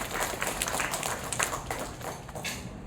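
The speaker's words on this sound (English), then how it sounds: "Let's give her another round of applause." Audience at a glassblowing demonstration at the Corning Museum of Glass clapping in a steady patter of many hands, fairly faint and even, with no voices on top.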